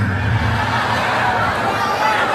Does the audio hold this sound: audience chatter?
yes